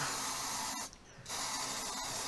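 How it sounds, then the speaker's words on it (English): A continuous close aerosol cleaner spray hisses loudly onto the MAF sensor of a 2001 Toyota Prado, broken by one brief pause before the spraying resumes. "Just going to liberally spray it."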